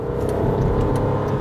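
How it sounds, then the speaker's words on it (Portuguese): A Hyundai HB20 with a 1-litre Kappa engine and Garrett turbocharger runs with a steady, loud droning engine note, a continuous low rumble heard from inside or close by. "É o mesmo motor, capa 1 litro, tá? Do HB20, que todo mundo conhece, que recebeu um turbo compressor Garrett"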